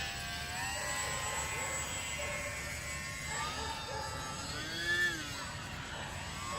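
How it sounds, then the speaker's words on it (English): A UMX Mini Timber RC park flyer plane flies overhead with its flaps down, giving a steady, high-pitched electric motor whine whose pitch rises and falls with throttle, heard at moderate distance against an outdoor background. "You give it any throttle at all with flaps on though, and it climbs straight into the air."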